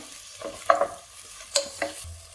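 A spatula scrapes and clinks through onions, tomato, dried chilli and curry leaves frying for a mutton roast. Several sharp stirring strokes sound close over a soft sizzle, with no voices.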